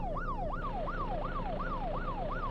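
A video game siren wails in a steady rising-and-falling electronic sweep, each cycle repeating about every half second, loud and continuous with no voices over it.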